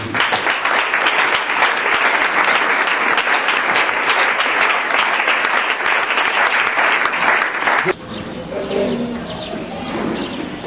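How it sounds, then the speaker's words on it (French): A church congregation breaks into loud, sustained applause close by for about eight seconds, then it cuts off abruptly into quieter room ambience with a few faint voices and movement. "On acclame le Seigneur Jésus."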